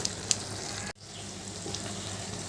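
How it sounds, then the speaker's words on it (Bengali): Bottle gourd peel curry with chopped coriander and green chillies being stirred in a pan, a steady soft sizzle with scraping, briefly cut off near the start, then resuming. "এবার একটু নেড়ে চেড়ে ধনে পাতা কুচিটা ভালোভাবে মিশিয়ে নেবো"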